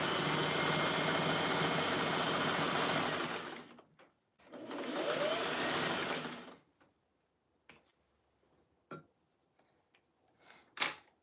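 Sewing machine stitching flannel rag quilt pieces with batting, two steady runs of continuous motor whir and needle chatter separated by a short pause, followed by a few faint clicks and a sharp handling knock.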